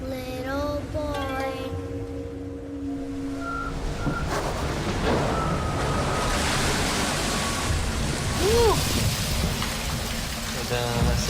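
Sea waves splash and hiss against a racing boat under way, a continuous broadband wash with rushing surges. A voice speaks briefly at the start.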